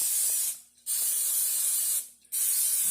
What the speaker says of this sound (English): We're going to go ahead and spray our pans now.